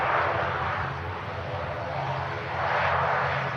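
An Embraer jet at Manchester Airport, a distant broad engine roar that swells and fades as it moves onto the active runway, heard from a spotting position with no talking.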